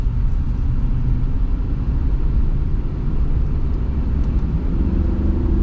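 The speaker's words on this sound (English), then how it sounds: "Yeah, and this V8 sounds great." Ram Power Wagon Tradesman V8 engine heard from inside the truck while driving, a steady loud low rumble with road noise that holds evenly throughout, no voices over it.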